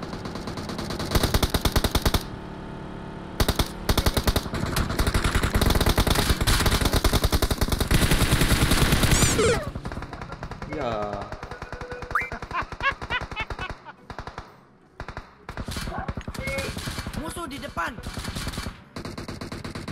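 Loud bursts of automatic gunfire in the battle-royale game PUBG Mobile, dense rapid fire for the first half, then scattered shots and game effects while players talk excitedly.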